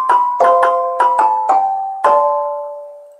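A dry sampled instrument played through LMMS's Audio File Processor picks out a short melody of about seven struck, bell-like notes, each decaying quickly into silence, the last one ringing slightly longer, with no reverb.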